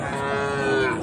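Sahiwal cattle, young heifers and bulls at a sale, a single drawn-out moo, loud and close, heard alone without talk.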